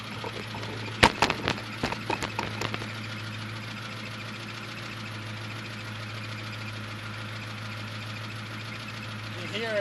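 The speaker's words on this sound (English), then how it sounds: "sounds to me like the throwout bearing. Might be making a little noise." A Chevrolet Camaro engine idles with a steady low hum and a faint whine from a suspected failing clutch throwout bearing, while a brief run of sharp clicks or taps sounds near the start.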